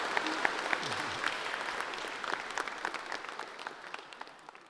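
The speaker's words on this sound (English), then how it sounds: "round of applause for the cohort" A room full of people clapping for a graduating coding cohort, steady at first and then thinning out and fading toward the end.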